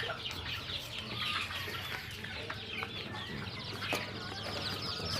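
Chickens being raised on a small farm cluck and peck close by, a busy chorus of short clucks and soft squawks with a few wing flutters over a low background murmur.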